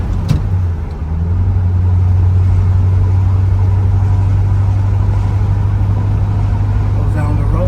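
A 1967 Chevrolet Corvette Coupe with a factory three-speed manual cruises down the road, its engine a loud, steady low drone with heavy rumble from inside the car for the whole stretch.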